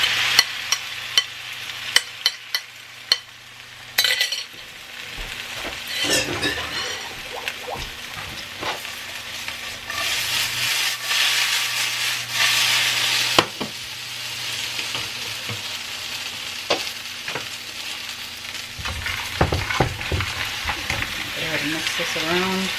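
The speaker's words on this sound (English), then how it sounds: "So now all we do is we just scramble the eggs in here" Eggs sizzle steadily in a hot pan for French toast, with scraping and clacking as they are stirred and scrambled, and a voice talking over the cooking now and then.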